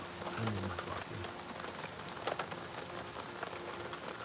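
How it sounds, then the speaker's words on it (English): Steady rain patters on a roof with a soft, continuous hiss and scattered drop ticks, fairly faint throughout and with no talking. "Can you guys hear that rain"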